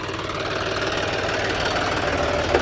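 A John Deere 5210 V2 tractor engine runs steadily nearby with a rough, rhythmic diesel knock and a low rumble, and nothing else is heard over it.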